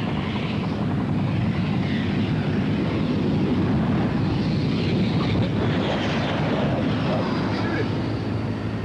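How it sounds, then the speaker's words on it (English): A Sepecat Jaguar jet, XX109, lands on the M55 motorway after taking off from nearby RAF Warton, heard as a loud, continuous broad engine roar with wind buffeting. "that Sepecat Jaguar XX109 landing on the M55, having taken off from the nearby RAF Wharton"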